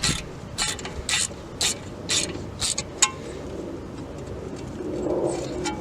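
A ratchet tightens a grub screw during a DIY fix for steering wheel judder under braking, giving a run of about seven quick, close clicking bursts in a steady rhythm, then a quieter mechanical tail.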